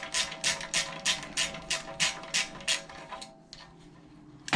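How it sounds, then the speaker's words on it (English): Bolts are loosened and the valve cover removed on a 212 engine, giving a run of about ten sharp, evenly spaced ratcheting clicks, close and fairly loud, followed by a few scattered metallic taps. "Taking off the valve cover."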